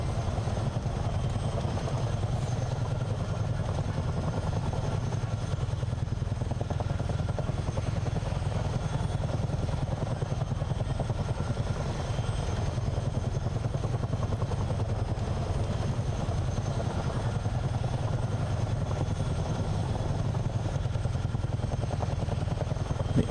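CH-47 Chinook tandem-rotor helicopter in Microsoft Flight Simulator, flying up the Potomac River: a steady, loud, continuous low rotor and engine drone with no break and no talk.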